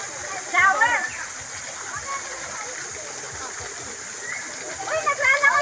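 A water shower splashes steadily into a kiddie pool at a family outing in Patar, Bolinao, Pangasinan, a continuous rushing spray with louder bursts as voices of children and adults chatter over it.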